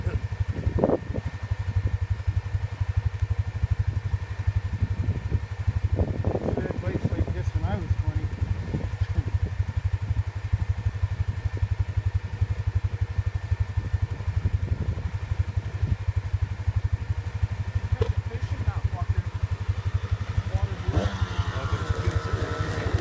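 A KTM 300 dirt bike engine works up a hill climb at Waiparous, heard as a steady, fairly distant drone with a few rising revs, under close talking and wind.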